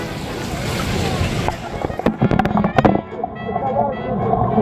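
A Samsung Galaxy S8 Plus phone is dunked into water, giving a near, loud burst of splashing and sloshing with a few sharp plunging knocks midway, over steady watery background noise.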